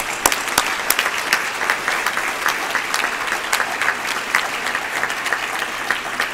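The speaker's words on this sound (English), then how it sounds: "Let's give him one more round of applause." Audience applause follows a church-style morning talk, a steady dense clapping from a sizable crowd that fills the whole stretch at even strength, with a few sharper claps standing out near the front.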